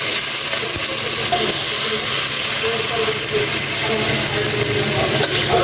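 Oil hisses and sizzles steadily in a pan while a fish curry with pointed gourd and sour greens cooks, a close, continuous frying hiss with faint crackle throughout.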